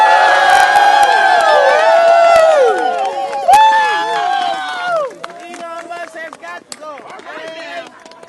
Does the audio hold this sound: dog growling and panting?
no